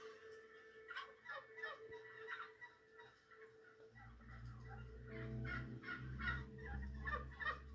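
Turkeys gobbling inside a crowded commercial shed holding thousands of birds, a dense overlapping chorus of repeated gobbles and calls that grows louder with a rumbling background noise partway through.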